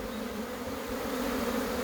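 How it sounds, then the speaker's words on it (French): A swarm of honey bees hums close by, a steady, dense drone with no voices and no breaks. "Les abeilles sont pas du tout agressives, regardez, elles se posent sur moi"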